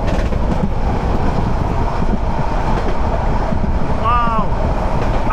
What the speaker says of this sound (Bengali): বেশ স্পিড নিয়ে যাচ্ছে ট্রেন।